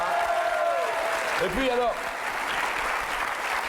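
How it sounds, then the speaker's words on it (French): A French audience applauds, a dense steady wash of clapping that runs the whole time while someone speaks briefly over it. "je voudrais qu'on applaudisse très très fort l'ami Salim"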